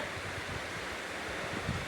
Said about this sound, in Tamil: கீரை வேகிறதுக்கு ஏற்ற அளவுக்கு தண்ணி ஊற்றிக்குங்க.